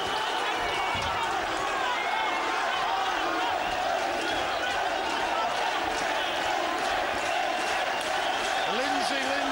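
A boxing crowd in a famous old hall chants a fighter's name, Lindsay, during the Martin Lindsay versus Paul Appleby bout. The dense, reverberant roar and rhythmic chanting stay loud and continuous throughout.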